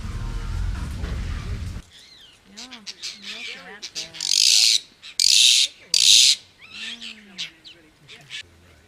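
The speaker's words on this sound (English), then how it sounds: "an apostle bird" In the Australian bush, an apostlebird gives a run of harsh, grating calls and rising notes, loud and close, broken by several bursts of hissing noise.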